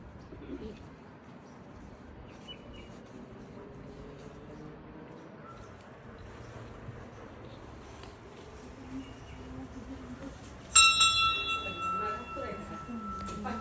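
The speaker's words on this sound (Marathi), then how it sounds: "सगळ्यांनी घंटी वाजवली." A temple bell at a Datta shrine in Satara rings out near the end with a sharp metallic strike and ringing decay, after quiet ambience with cooing pigeons and soft voices.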